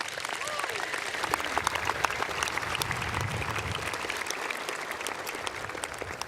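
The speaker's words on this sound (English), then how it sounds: "I'd like to have a round of applause for all of those great accomplishments." Sustained applause from a large audience at a high school graduation ceremony, dense steady clapping filling the hall for several seconds with a few louder claps standing out and a faint voice or whistle near the start.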